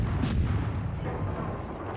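Naval guns in the World of Warships video game fire in a loud, dense burst of booming shots, then a continuous rumble of battle noise carries on underneath.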